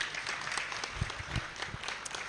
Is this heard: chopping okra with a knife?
no